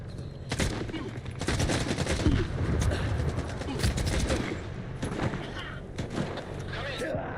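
Gunfire crackles in bursts in the S.T.A.L.K.E.R. 2: Heart of Chornobyl video game, with dense rattling volleys and sharp individual shots throughout and a voice talking over the combat.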